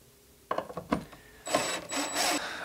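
Screws are backed out of the rear panels of a guitar amplifier, a few quick close clicks and ratcheting turns followed by a brighter whirring scrape, all fairly loud and alone.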